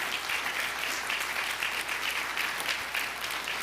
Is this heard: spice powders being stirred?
no